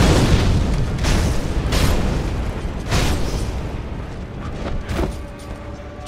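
Fiery explosions from a fire attack in Sekiro: Shadows Die Twice, a run of heavy, loud booms landing roughly every second, each bursting and then rumbling away.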